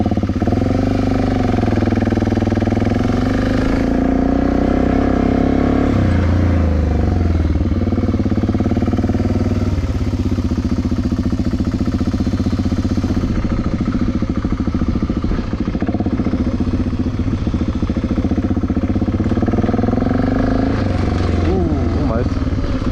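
A Royal Enfield Scram 411 motorcycle rolls slowly over a plank on an overland event skills course, its engine a continuous low rumble that swells and eases, with people talking over it.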